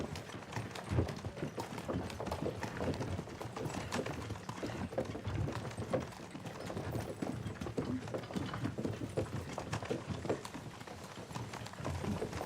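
Horse hooves clip-clop in the video game Kingdom Come: Deliverance II, a steady, continuous rhythm, a dense run of hoofbeats at an even volume throughout.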